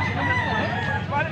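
A young stag gamecock, roughly a year old, crows loudly and close, one sustained cock-a-doodle call filling the moment, with a faint hint of voices or farmyard noise underneath.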